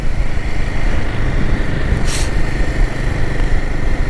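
Inside a riding setting, a Royal Enfield Himalayan 450 engine pulls steadily in third gear above 3,000 rpm, a sustained droning hum mixed with rushing wind noise, fairly loud and continuous, with a brief hiss midway.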